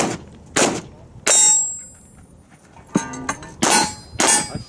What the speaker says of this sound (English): I hit the steel and didn't get it.